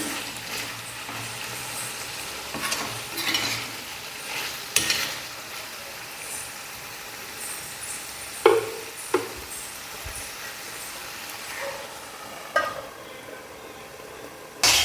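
Chicken curry simmering in a covered pan on the stove, a steady soft bubbling hiss with scattered clinks and taps of the lid and utensils, no talking.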